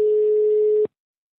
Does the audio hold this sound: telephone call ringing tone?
yes